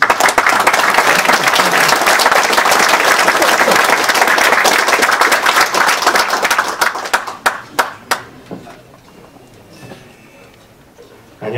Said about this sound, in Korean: 윤 회장을 박수로 맞으십시오